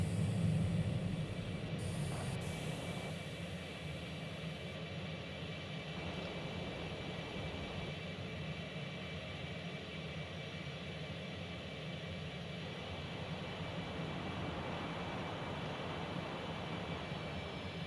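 An F-18 jet roars steadily in an X-Plane flight simulator game, a loud continuous engine drone holding for the whole stretch, with no voices over it.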